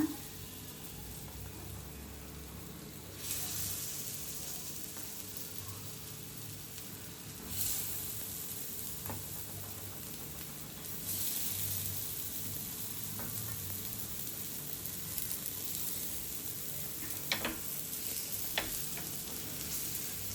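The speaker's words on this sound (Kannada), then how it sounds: "ಇವಾಗ ಎಣ್ಣೆ ಕಾದಿದೆ. ಈ ಕಟ್ಲೆಟ್ ಒಂದೊಂದೇ ಇಡ್ತಾ ಬರೋಣ." Cutlets frying in hot oil on a tawa, a steady soft sizzle that flares louder in bursts as pieces are placed one at a time, with occasional faint clicks.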